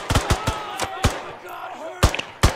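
Gunfire during an infantry fire drill, several sharp rifle shots cracking in an uneven series, loud and close, with outdoor ambience and faint voices between the shots.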